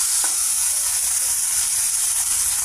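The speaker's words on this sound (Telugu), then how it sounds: "ఆయిల్లో పెద్దలపాయ పీసెస్, పచ్చిమిర్చి, అల్లం చిన్నులపాయల పేస్ట్ యాడ్ చేసామండి" Onion pieces, green chillies and ginger paste sizzle in hot oil with a steady, loud frying hiss that holds evenly throughout, close up and alone.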